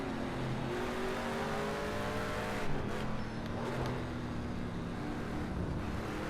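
Racing video game car engine running steadily at high revs, with rising and falling pitch as it shifts gears through a lap, constant and close throughout.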